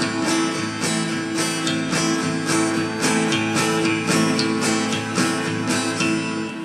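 A guitar is strummed continuously in repeated groups of eight even down-up strokes, giving a steady, regular wash of chords with no voices.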